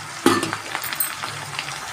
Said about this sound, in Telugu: ఓకేనండి, ఆయిల్ ఫ్రై అవుతుంది